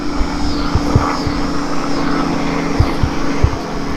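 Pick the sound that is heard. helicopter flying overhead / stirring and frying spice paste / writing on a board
helicopter flying overhead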